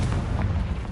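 A Confringo blasting spell goes off in Hogwarts Legacy: a dense, rumbling blast with low booming energy that fills the whole short moment, loud and close, with no talking.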